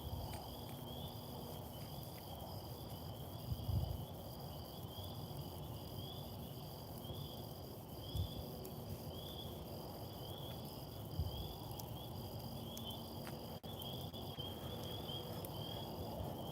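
A steady chorus of crickets trills on and on at high pitch, soft and distant, over a low rumble with a few faint thumps, outdoors by a burn barrel.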